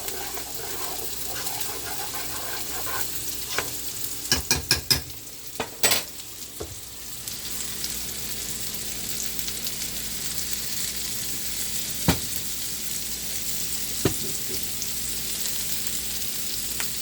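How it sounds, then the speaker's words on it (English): Oatmeal with butter and apples is stirred in a pan, a soft continuous sizzle with scraping of the spoon and a few sharp clinks against the pan early on, then occasional taps. "The oatmeal stir."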